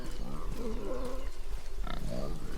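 A boar in the video game God of War grunts and snorts in a series of close, throaty calls, with a low steady hum underneath.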